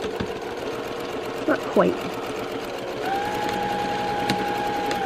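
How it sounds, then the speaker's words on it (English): A sewing machine sews a zipper onto a tote bag, its motor humming steadily nearby while a voice speaks briefly over it. "And sew it about 1/2 inch."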